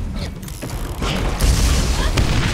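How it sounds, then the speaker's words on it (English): Grenades going off in the co-op shooter game Borderlands, a series of heavy booms and rumbling blasts with mechanical clanks, loud and dense, one bursting sharply mid-way and another near the end. "I'll throw my grenades."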